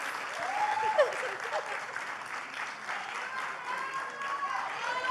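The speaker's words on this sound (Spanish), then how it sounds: "Así, en ovación, de pie" An audience rises for a standing ovation at a cultural sector event, giving loud, continuous applause with voices calling out above the clapping.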